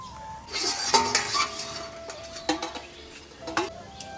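A metal lid goes on a pot of steaming momos in a village kitchen. It gives a series of close clinks and clanks, with ringing metallic tones and short scrapes spread over a few seconds.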